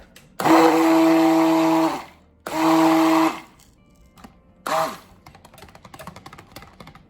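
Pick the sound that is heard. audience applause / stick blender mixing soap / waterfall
stick blender mixing soap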